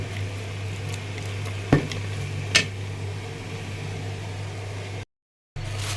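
Chana dal halwa cooking in a pan, a steady low sizzling hiss with two brief scraping clicks of stirring, close by and alone.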